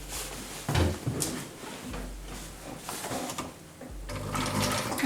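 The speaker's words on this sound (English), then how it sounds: "to sew a seam along the whole waistline" A sewing machine running a seam along a trouser waistline, close-up mechanical whirring in bursts with brief pauses and fabric shuffling between runs.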